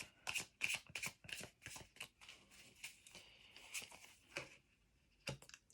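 Tarot cards being shuffled by hand, a quiet close series of crisp riffling snaps and flutters in irregular bursts with brief pauses between, no talk.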